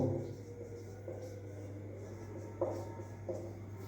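Sentences being written on a classroom board, with faint scratchy strokes and a couple of soft taps over a steady low electrical hum in a quiet room.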